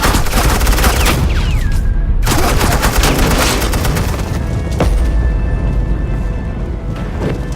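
Loud, dense suppressing gunfire in the Telltale game Batman: The Enemy Within rattles continuously for several seconds, rapid bursts layered with booming impacts and no pause in the barrage.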